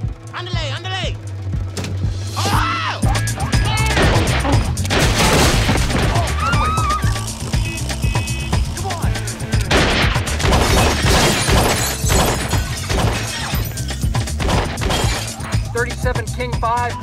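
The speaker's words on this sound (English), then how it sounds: "shot fired" Gunfire erupts in a comedy film scene during a store holdup, with sharp shattering bangs and bursts scattered through a dense, loud mix of music and effects over about seventeen seconds.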